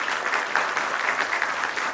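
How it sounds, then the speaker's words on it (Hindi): A live audience claps loudly and steadily at an Indian panel discussion, a dense, even burst of applause with no talking over it. "एक बार जोर से ताली बजाई जानी चाहिए।"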